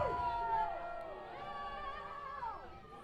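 Unhappy crowd at a high school football game between Evanston and Jackson Hole, a sustained murmur of voices with rising and falling shouts, fairly loud and continuous with no clear speech over it.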